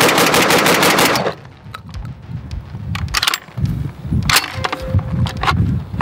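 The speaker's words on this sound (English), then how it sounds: "I'm just gonna do a quick mag dump, show that it's cycling yet again." A 12 gauge shotgun fed from a 20 round drum magazine empties in rapid fire: a dense, loud opening burst followed by spaced heavy shots outdoors.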